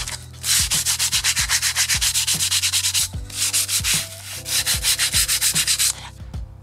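Hand sanding a wooden model railway baseboard: rapid, rhythmic to-and-fro scratching strokes of sandpaper on wood, close and loud, in bursts with brief pauses between.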